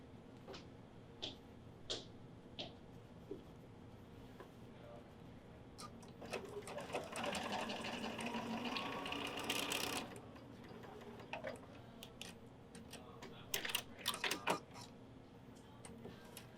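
A sewing machine stitches a pillow seam cut on the bias in short bursts of quiet mechanical whirring. Scattered ticks and clicks sound alongside, and a person talks in the background.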